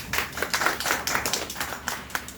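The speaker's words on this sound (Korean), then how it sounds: "박수를 조금밖에 안 주셔가지고요." Brief, light clapping from a small seminar audience at a talk on detached-house design, a few scattered hands tapping quietly and unevenly for a couple of seconds.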